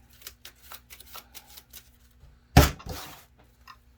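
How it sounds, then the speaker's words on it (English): Quiet riffling taps, then a sharp, close burst of Pokémon trading cards being shuffled into a deck, followed by a few softer ticks. "Take the Crobat, shuffle it into my deck."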